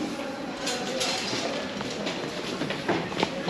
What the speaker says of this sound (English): We've got a train that's now arrived on platform 1.